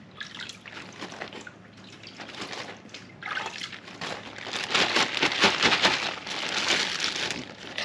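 Water poured over bur oak seedlings during an outdoor oak savanna planting, a steady splashing trickle that swells louder in the second half, with wind noise throughout.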